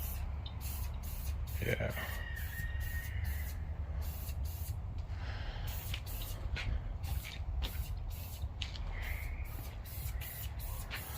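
Hissing spray of LMR dye tack coat onto Foxbody Mustang interior quarter panels, repeated short bursts in steady rhythm close by, with brief talk between passes.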